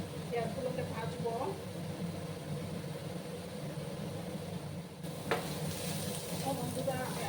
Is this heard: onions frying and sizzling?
yes